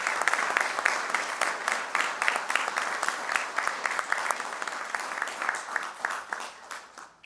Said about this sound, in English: Can we please get a round of applause for these 5 gentlemen?